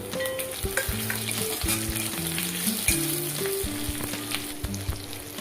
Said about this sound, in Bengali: আদা রসুন খুব ভালোভাবে ভাজা হয়ে গেলে কাঁচা লঙ্কা কুচি দিয়ে দিচ্ছি।